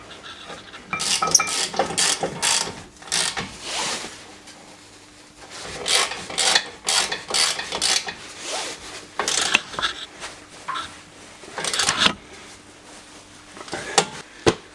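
Screws are fitted into a BMW E90 brake caliper holder, giving close, irregular metallic scraping, clinks and rubbing in short bursts between quieter gaps, with no speech.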